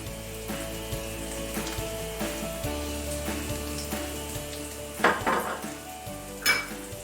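Mushrooms sautéing in oil in a pan for shrimp scampi, a steady close sizzle with repeated scraping stirs and a couple of louder clanks of the utensil against the pan.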